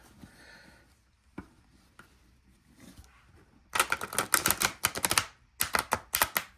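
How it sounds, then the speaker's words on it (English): Quiet handling and a few taps, then rapid fluttering riffles of cards being shuffled in two close bursts. "let me see if I can even shuffle"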